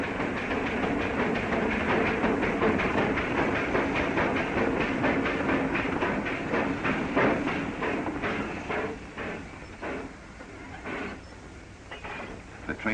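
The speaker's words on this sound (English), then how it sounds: "The train came to a stop with the passenger coach still inside the tunnel." A steam train rumbles steadily through a tunnel with a dense, roaring clatter, loud and close, echoing within the enclosure, gradually easing in intensity as it stops.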